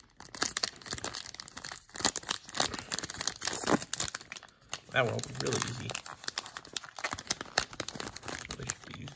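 Pokémon Sword & Shield gummy wrapper torn open by hand, crinkling and ripping in bursts close by, with a person talking over much of it.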